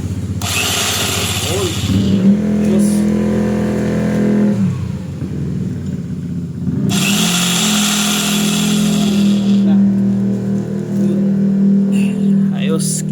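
An electric chipping gun (jack hammer) runs with a loud, steady mechanical drone after its switch has been bypassed and rewired, in two long bursts with a short dip between them, and a voice talks over it.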